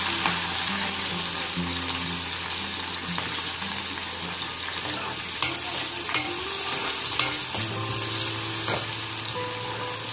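Onion fries in a pan, a loud steady sizzle with repeated stirring scrapes and a few clinks of a spoon against the metal.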